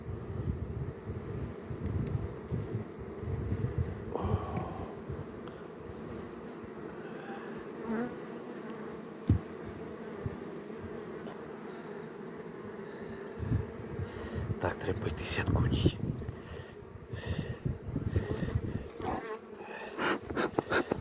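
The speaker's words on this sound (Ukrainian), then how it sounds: "там повно бджоли" A steady, dense buzzing of many bees surrounds the listener up close, with occasional louder passes and faint wind rumble underneath.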